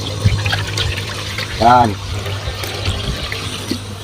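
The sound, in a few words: water poured into a pan for cooking goat adobo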